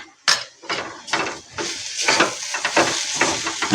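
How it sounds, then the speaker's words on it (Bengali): Cauliflower frying with spices in a pan, with loud, uneven bursts of sizzling and scraping as the pieces are stirred, each stir followed by a steady hiss. "আমার এটা ভাজা ভাজা হয়ে গেছে ফুলকপিটা"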